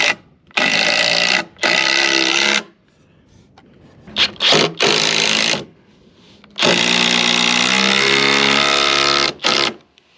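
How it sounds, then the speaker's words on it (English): A Hercules brushless impact driver sinking screws into wood while building a hunting blind: several loud, close bursts of rapid hammering, the longest near the end, separated by quiet pauses and small handling noises. "using the Hercules brushless impact, which drives these things with no issue at all"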